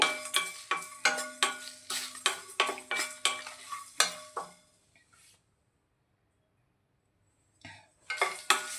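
Caraway, fennel and coriander seeds are dry-fried in a pan while a spatula scrapes and knocks against the metal in a quick, regular rhythm. Everything falls silent midway, then the scraping comes back near the end.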